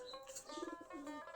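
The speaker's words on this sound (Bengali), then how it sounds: "সবগুলাই দেশি গিরিবাজ কবুতর।" Native Giribaz pigeons in a loft holding about 45 pairs with young coo softly, a few low murmuring calls rising and falling over faint background noise.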